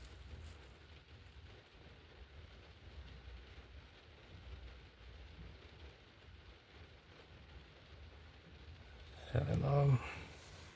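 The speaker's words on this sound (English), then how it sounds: "Listen to the rain" Rain patters on a car, heard from inside as a faint, steady hiss and drumming under a low rumble, with a brief louder bump near the end.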